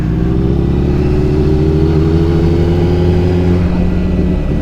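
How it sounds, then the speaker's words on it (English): A motorcycle engine runs steadily up close, holding a loud mid-pitched drone with harmonics sliding slightly as the rider speeds up, shifts into second gear and then back down to first. "So I'm going to speed up a little bit, get in the second, then you'll hear me click it down in the first"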